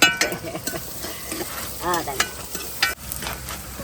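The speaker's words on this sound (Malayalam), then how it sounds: "വെളുത്തുള്ളിയും ചെറിയുള്ളിയും കൂടെ എണ്ണയിലേക്ക് ഇട്ട് കൊടുക്കട്ടെ." Garlic and shallots sizzle in hot oil in a pan, a close, steady frying hiss broken by stirring clatters and a brief faint voice-like sound.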